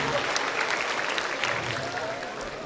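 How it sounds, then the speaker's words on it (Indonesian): Steady audience applause at a new undergraduate student welcome ceremony for the ITB Faculty of Mathematics and Natural Sciences, honouring an outstanding student, sustained and moderately loud throughout with no clear talk over it. "Tepuk tangan, Dean Hartono."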